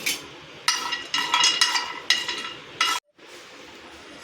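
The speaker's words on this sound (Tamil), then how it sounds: "இதையும் வந்து சிம்லேயே வச்சு ஒரு 2 நிமிஷத்துக்கு மட்டும் வறுத்து எடுத்துக்கலாம்." Almonds, cloves, cinnamon and cardamom dry-roast in a pan over low heat, with short bursts of rattling and scraping as a spoon stirs them, a brief silent gap, then a softer hiss.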